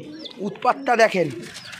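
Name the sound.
pigeons cooing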